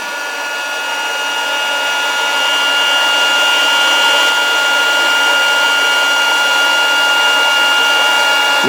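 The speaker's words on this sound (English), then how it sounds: "I've got a heat gun here. I can just shrink that onto it." A heat gun shrinks a heat-shrink band onto an RG58 cable, blowing with a loud, steady whirring hiss that stays constant throughout and stops abruptly at the very end.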